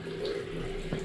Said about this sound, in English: literally the water is just coming down that pipe going into there